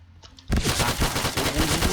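An Ultimax machine gun fires in the shooter game Point Blank, a sudden loud sustained burst of rapid automatic shots that bursts out of near silence.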